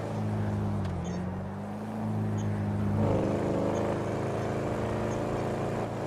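A modified Toyota Corolla drives along with a steady, loud engine drone and road rumble throughout, the engine note rising slightly partway through as it speeds up.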